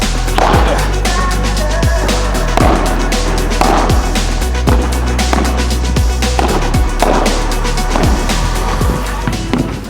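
Wilson Defy Pro padel racket striking the ball in repeated sharp hits roughly every second, loud and close over a constant low hum of court background noise.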